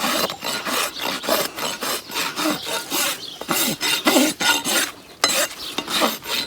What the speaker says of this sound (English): So I did just smoothed it out with the smooth side of the rasp